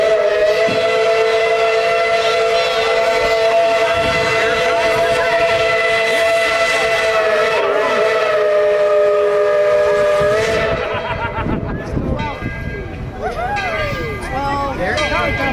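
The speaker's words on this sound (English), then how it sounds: "Here comes the train." Tweetsie Railroad steam locomotive No. 12 pulls into the station on opening day, its loud whistle sounding long and close before the chuffing and rolling train noise continues, with people talking nearby.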